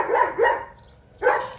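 A dog gives three loud, close barks, two quick ones in succession and a third after a short pause.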